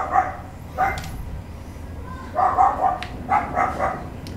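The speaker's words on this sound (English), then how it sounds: "What's he even fucking barking at?" A dog barks in short bursts, a couple of single woofs followed by a quicker run of several barks, fairly close and distinct over a quiet background.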